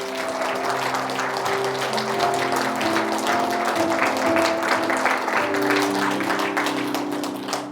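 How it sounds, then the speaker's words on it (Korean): Church congregation applauding during a Sunday worship service at Songam Church, steady clapping from many hands over sustained organ or keyboard chords throughout. "우리 하나님께 박수로 한번 약속을 표현해 볼까요?"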